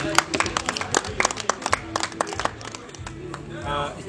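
Audience at a wedding breaking into scattered, irregular hand claps with uneven bursts, close by, fading out near the end with a voice coming in.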